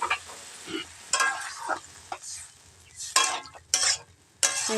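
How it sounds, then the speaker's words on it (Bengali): Soybean chunks and potatoes stirred in a frying pan, with bursts of scraping and sizzling that come and go between quiet gaps. "আলু কটা ছিল আর সোয়াবিন দিয়ে রান্না করতেছি"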